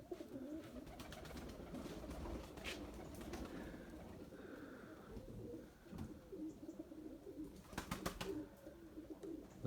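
Faint, low cooing comes from a white pigeon amid rain-soaked surroundings, appearing in soft intermittent phrases over a steady background of drips and distant noise.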